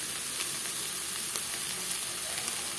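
Spring onion and egg curry sizzles steadily in a pan, a close, even frying hiss with faint crackles.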